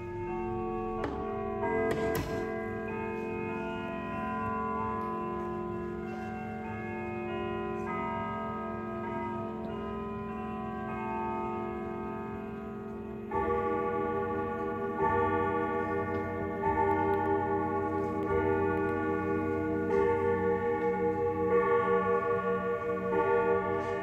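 A Howard Miller 610-999 grandfather clock ticks steadily while resonant, ringing chime tones sound over the ticking, growing fuller and louder partway through as it strikes the hour of seven.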